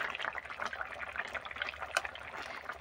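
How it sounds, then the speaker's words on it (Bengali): Fish curry of bata fish with potato, drumstick and ridge gourd bubbling in a pot, a soft continuous simmer with faint liquid pops and drips close by. "এই যে তরকারিটা আমার ফুটছে"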